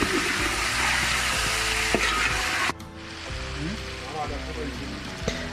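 Chicken and tomato stirred and frying in a pan, a loud dense sizzle with scraping stirring strokes, briefly dropping in intensity midway before continuing close up.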